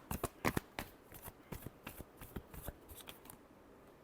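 Tarot cards are shuffled by hand in quick, quiet riffling flicks and slaps, an uneven run of crisp snaps close by with no voices.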